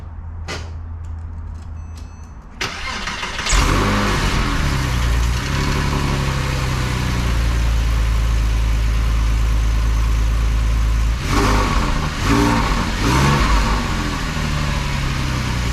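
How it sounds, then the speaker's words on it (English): A Porsche 911 engine cold-starts, cranking and firing, revving up, then settling into a loud, steady idle with a couple of brief throttle blips. "let's get on with the cold start"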